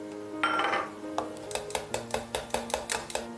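A utensil stirs melted chocolate mixed with rum in a bowl, giving a steady run of rhythmic clinks and scrapes against the sides, close and moderately loud, with no talking.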